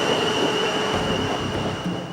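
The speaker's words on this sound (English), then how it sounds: "Do you want to get the number of that train?" A train rolls past on the railway line through Bursledon, a steady close rumble with wheel noise and a sustained high squeal running throughout, no voices.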